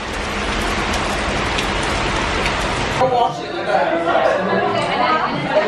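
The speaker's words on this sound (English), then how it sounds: "I'm sheltering from the rain, along with the rest of London, in Liberty." Heavy rain pours down on a London street as a dense, steady hiss for the first half, then gives way to softer rain mixed with a crowd's chatter indoors.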